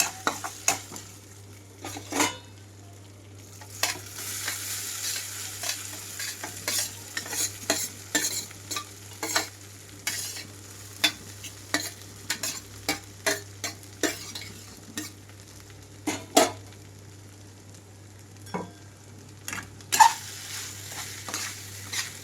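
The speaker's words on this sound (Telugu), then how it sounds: "తాలింపు మొత్తం కలిపేస్తున్నాను" Repeated light scraping and clinking of a spoon stirring rice into an ajwain tempering in a pan, irregular taps over a steady low hum, fairly close.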